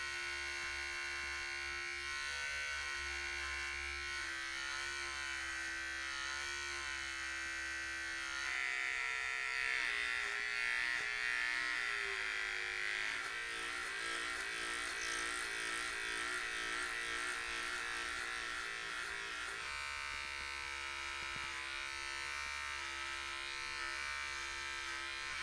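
Cheap electric hair clipper buzzing steadily during a self-administered buzz cut, a constant close motor hum whose tone shifts slightly as it moves through hair.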